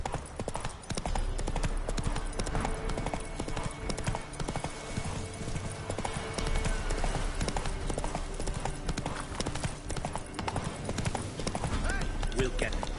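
Roach the horse gallops in The Witcher 3 on PS5, rapid rhythmic hoofbeats pounding close and steady throughout, with game music and a voice speaking over the top.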